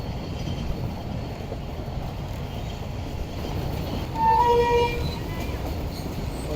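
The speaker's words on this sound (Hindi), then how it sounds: "और ये ट्रेन अप्रोच बना रही है डेथा रेलवे स्टेशन पर।" A train approaches Detha railway station with a steady rumbling roar that swells briefly in the middle, accompanied by short tonal toots.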